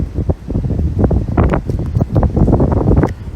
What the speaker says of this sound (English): Ooh, I can hear that wind now, too.